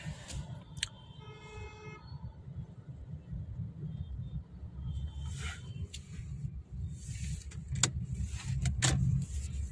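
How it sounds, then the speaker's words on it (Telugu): City road traffic between Hebbal and Koramangala in Bengaluru, a steady low rumble of passing vehicles with several short horn toots and whirring sounds scattered throughout, growing slightly louder toward the end. "చూడండి ట్రాఫిక్ ఎట్లా ఉంది ఫ్రెండ్స్"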